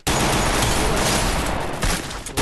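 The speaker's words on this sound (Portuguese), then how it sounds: "Um tiro aí, mano." Sustained bursts of rapid gunfire in the video game Free Fire, dense and loud, running almost continuously with brief dips, no talk over it.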